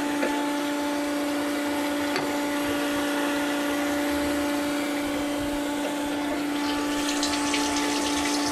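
An electric fuel pump on a Toyota 3TC-engined drag car runs continuously with fuel flowing through the system, a steady whining hum with a faint watery rush, close and unbroken.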